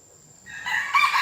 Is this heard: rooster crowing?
yes